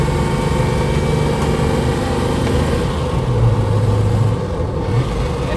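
Engine of a 1968 Mercedes 280SEL with a four-speed manual, droning steadily as the car accelerates, with a pitch shift and brief dip partway through suggesting a gear change, loud and close.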